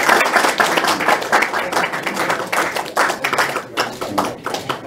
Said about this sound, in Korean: 뜨거운 박수로 예.